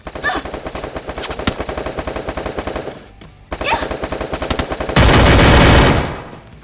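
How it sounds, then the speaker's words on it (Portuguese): Rapid bursts of automatic gunfire in the video game Free Fire rattle continuously, pause briefly, then resume, ending in a louder, denser stretch of shooting. "Eu não sei de onde é que tá vindo o tiro!"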